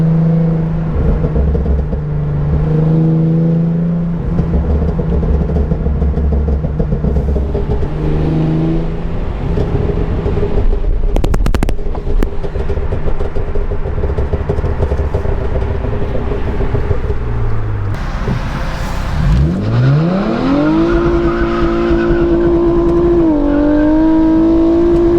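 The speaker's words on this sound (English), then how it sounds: "I'm trying to get it to backfire." A BK2 Genesis Coupe 3.8 with a custom-tuned exhaust revs hard and loud up close, its engine note climbing and falling through repeated throttle blips while trying to backfire, ending in a rising rev.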